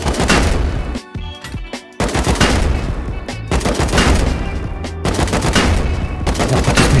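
Gunfire in the survival game Rust during a base raid: loud bursts of rapid shots in repeated volleys, cut by brief pauses, close and dominant with almost no talk.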